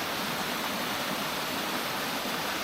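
A waterfall in the Lake District gives a continuous, even hiss of falling water, moderately loud, with no voices heard.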